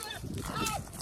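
Pigs at a morning feeding on an animal sanctuary, with goats nearby, grunting and snuffling in a dense, continuous close-up chorus over a brief moment, with no talk.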